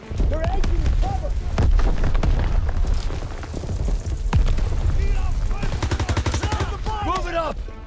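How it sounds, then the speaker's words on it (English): A grenade explosion and heavy gunfire fill a Call of Duty: WW2 battle scene, with loud, continuous rifle and machine-gun bursts, booming blasts and shouting voices throughout. "Throwing a grenade!"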